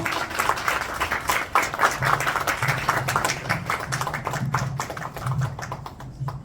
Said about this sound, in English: Let's give a big round of applause. Come on, a huge round of applause.